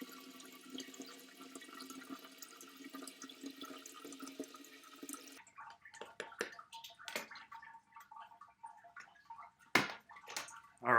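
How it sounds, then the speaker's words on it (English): Cold brew coffee runs from an opened spigot into a keg, a soft steady trickle and gurgle that breaks midway into irregular splashes, sloshes and a few louder knocks, with no talking. "then I'll open up the spigot and start pouring the coffee into my keg"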